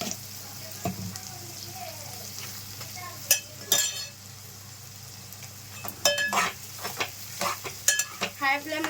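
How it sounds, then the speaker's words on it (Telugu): Onions sizzle with turmeric and salt in a pan over high flame, a steady frying hiss broken by clinks and scrapes of a spoon stirring, busier toward the end, heard up close. "హై ఫ్లేమ్లో పెట్టి కొంచెం బాగా వేగాలండి, వేయించుకోవాలి"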